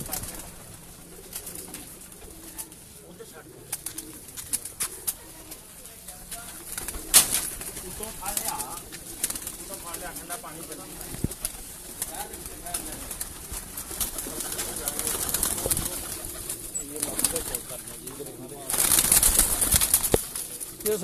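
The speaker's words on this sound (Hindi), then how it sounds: "ये कबूतर अब दाना दुना खा रहे हैं माशाल्लाह।" Breeder pigeons coo softly on a rooftop while feeding on grain, with scattered wing flaps and pecking sounds. Someone talks over them and wind noise rises toward the end.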